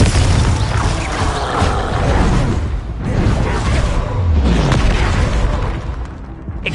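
Booming spell explosions from a PS4 wizard duelling game rumble in two or three heavy surges, dense with crashing game effects and little talk.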